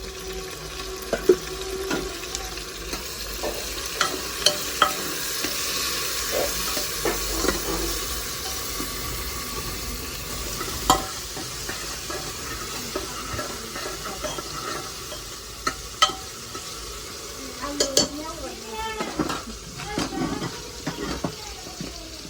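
Vegetables frying and being stirred in a pan for pav bhaji, a steady sizzle with scraping stirs and occasional clanks throughout, close and moderately loud, with faint background voices.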